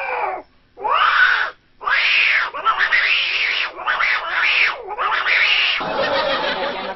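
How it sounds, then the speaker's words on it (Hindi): Two cats fight, giving loud, drawn-out wavering yowls and rising and falling howls that run almost without pause, ending in a harsher, noisier cry. "दोनों बिल्लियों को पता नहीं क्या हुआ,"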